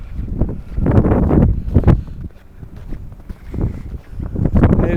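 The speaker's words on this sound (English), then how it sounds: "It's quite windy, and you might only have the sound of" Strong wind during an April snowstorm, loud gusts roaring and buffeting close to the microphone, rising and falling in uneven surges with no other sounds.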